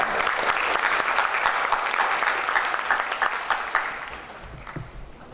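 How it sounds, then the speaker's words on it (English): Audience applause for a guest presenter at an Islamic economics and finance forum, a dense steady round of clapping from a crowd that stays loud before tapering off toward the end. "Please give a big applause to Dr."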